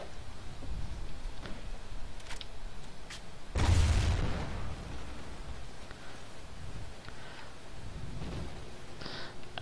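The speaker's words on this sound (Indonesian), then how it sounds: "Dia balik bom kat aku." A bomb blast in the shooter Call of Duty: Ghosts, one loud low boom about a third of the way in, heard over steady game background noise with a few faint clicks and pops around it.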